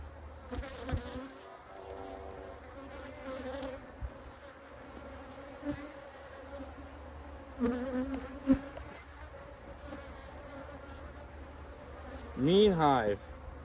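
Honey bees buzzing around an open, defensive hive during a colony inspection, a faint steady hum with occasional closer buzzing passes and a louder fly-by near the end.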